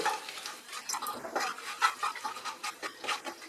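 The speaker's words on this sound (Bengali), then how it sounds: "অল্প পরিমাণে দালচিনি আর গোলমরিচ আর লবঙ্গ দিলাম। ফোড়নটাকে ফ্রাই করব যতক্ষণ না এই ফোড়ন থেকে সুগন্ধ বের হচ্ছে।" Whole cinnamon, black pepper and cloves frying in oil for a Bengali mutton curry, a soft close sizzle with repeated stirring scrapes and light clinks of utensil against pan, no voices.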